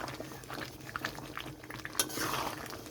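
Water bubbling and simmering in a pot with mutton pieces, a soft steady boil with small pops and an occasional clink of a utensil against the pot, close and fairly quiet.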